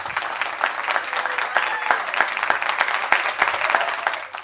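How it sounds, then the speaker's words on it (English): Applause rises for the winners of an Air Traffic Control Award at an awards session, a moderate, continuous clapping with a few sharper individual claps standing out in a loose rhythm. "one last round of applause to Jay and Angela for Air Traffic Control Award today"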